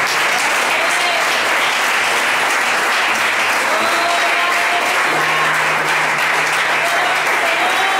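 A Pentecostal church congregation claps continuously during a celebration service, a dense, loud, steady wash of applause filling the hall, with faint voices mixed underneath.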